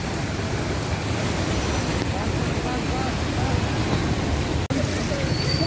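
Floodwater of the swollen Indrayani river at Alandi, high enough to fill a bridge, rushes past in a steady broadband roar that stays loud and unbroken, apart from a brief dropout near the end.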